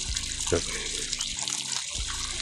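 Water gushing from a tubewell in Barpara village, Purulia, a steady flowing rush with faint voices in the background.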